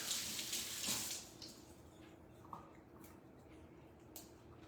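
Tap water running over fresh basil in a sink, a steady close splashing hiss that softens after the first second, leaving quieter trickling and a few drips.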